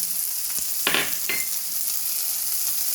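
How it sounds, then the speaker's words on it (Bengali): A Bengali tadka of spices with turmeric, salt and sugar sizzles loudly in a pan, a constant bright hiss crossed by two or three quick spatula strokes. "এবারে এটাকেও ভালো করে ভেজে নেব"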